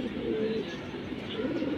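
Silver beji pigeons give a brief, close, low throaty coo over a faint background murmur.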